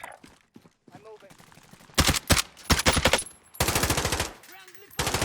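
Automatic gunfire in Call of Duty Warzone night mode, with rapid loud bursts of machine-gun shots in several separate volleys, mixed with quieter player voices and in-game sounds between them.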